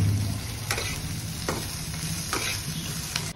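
Okra sizzling in a hot pan while it is stirred, a constant frying hiss broken by several sharp scraping strokes at a regular pace, close and loud, with no talk.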